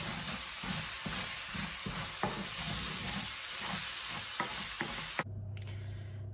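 Ground beef mince with taco seasoning sizzles and fries steadily in a pan, with scattered stirring scrapes and clicks, before the sound cuts to a quieter hum.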